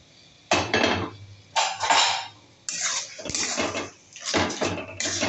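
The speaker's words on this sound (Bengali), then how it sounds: "এবার আমার ম্যারিনেট করা মাংসটা এর মধ্যে দিয়ে দেব।" Marinated chicken going into a hot pan for mustard chicken: loud bursts of sizzling and clattering against the pan come in several waves, with near, scraping spoon-and-pan knocks between them.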